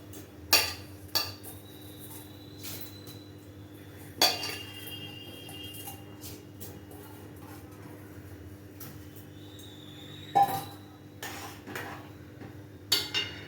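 Rice goes into a pot of half-boiled dal and vegetables for Gobindobhog rice, with a few metallic clanks and scrapes of a utensil against the pot spread apart over a quiet background hum.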